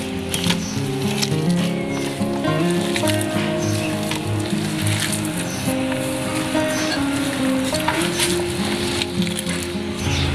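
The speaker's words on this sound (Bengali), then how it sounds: "এবার এগুলিকে আমি হাত দিয়ে ভালোভাবে মেখে নেব।" Hands knead and squeeze momo filling seasoned with black pepper powder and ground paste, giving wet squishing and pattering under steady background music.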